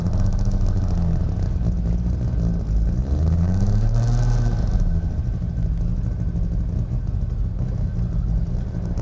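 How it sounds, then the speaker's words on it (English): A 1958 Saab 93B engine runs after being started with its starting handle, a steady loud mid-pitched drone with a brief rise and fall in revs midway, no voices. "Pull out your choke, turn your ignition on, and you pull your starting handle."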